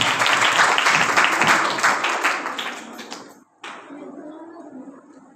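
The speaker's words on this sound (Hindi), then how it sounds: "उनकी कमिटमेंट के लिए ज़ोरदार तालियां हो जाएं" A church congregation claps loudly during a sermon, a broad wash of many hands that fades over about three seconds and then cuts off abruptly before quieter room sound follows.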